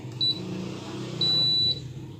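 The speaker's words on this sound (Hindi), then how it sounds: "देखा, ये 2 मरतबा बीप की आवाज़ आई।" Two short electronic beeps from a Khurshid AC/DC ceiling fan receiver as its remote pairs, a brief chirp followed by a longer tone about a second later, clear over a low steady background hum.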